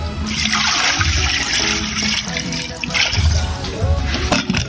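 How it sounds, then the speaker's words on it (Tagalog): Water gushes and splashes steadily into a cooking pot holding sautéed food with soy sauce and vinegar, a continuous loud pour with some bubbling underneath. "Lagyan ng tubig."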